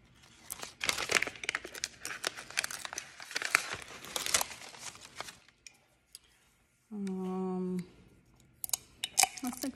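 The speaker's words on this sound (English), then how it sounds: "Take off the butcher paper." Crinkling, tearing rustle of butcher paper being peeled off a freshly pressed, cooled sublimation mug from a Cricut Mug Press, close and busy for several seconds, then a quiet pause and a steady tone, with a person talking around it.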